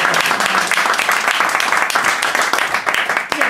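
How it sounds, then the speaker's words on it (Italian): An audience at a presentation in Savona gives a round of applause, dense, even clapping from many hands filling the room, sustained and fairly close. "Un applauso!"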